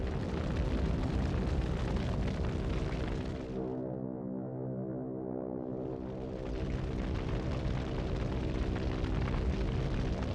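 Level bombing in a World War II desert battle on the Mareth Line brings loud, continuous rumbling blasts and roaring that fill the air, easing briefly midway before surging back.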